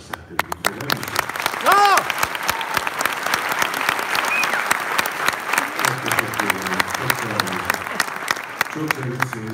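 Sustained applause from a concert hall audience at a mystic music festival, a dense steady patter of many hands clapping throughout, loud and close, with a few voices calling out over it.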